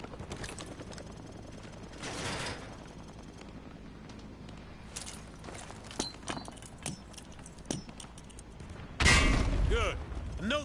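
A frag grenade tossed in Call of Duty Modern Warfare 2 Remastered, with scattered clatter and soft thuds followed by one loud, close explosion burst near the end over a low background rumble.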